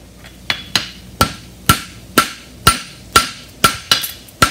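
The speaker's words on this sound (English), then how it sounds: "just pick up on your hammer and pull out to the corner" A steel horseshoe for a European hind barshoe is struck with a hammer on an anvil, about ten sharp, ringing blows at an even, unhurried pace, close and loud with no talking.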